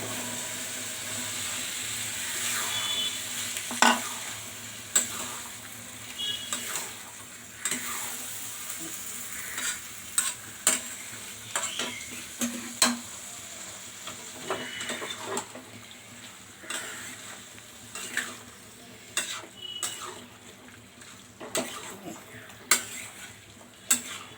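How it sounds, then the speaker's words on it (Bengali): Kabuli chickpeas are stirred in spiced oil in a pan for masala chole, giving a steady frying sizzle broken by repeated sharp scrapes and clinks of a spoon against the pot. "এবারে আমি দিয়ে দেবো কাবলি ছোলাটা।"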